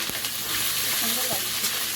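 Steady hiss and crackle of potatoes frying in hot oil, close up, with occasional faint stirring clinks and scrapes.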